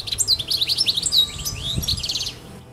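A European goldfinch sings a rapid, bright run of twittering chirps and liquid trills, close and continuous for nearly three seconds, with faint low background rumble.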